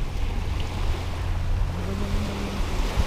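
Rough sea with waves churning near a boat dock, a constant broad wash of surf and wind noise with a low rumble beneath, steady and fairly loud throughout.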